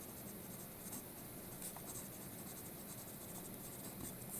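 Pencil scratching on paper during a classroom math lesson, a faint, steady scribbling texture with soft irregular strokes running throughout, no voices over it.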